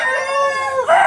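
A close Aseel rooster at a West Bengal poultry market crows loudly and steadily, its drawn-out call ending in a brief upward lift, with no voices over it.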